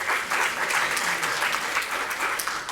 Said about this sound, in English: He's going to love that applause